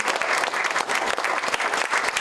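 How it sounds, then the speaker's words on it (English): Loud, dense applause from an audience honoring a state senator at an arts and culture event, continuous clapping filling the whole moment with no talk over it. "please give a big round of applause to Senator Barrett for being our champion"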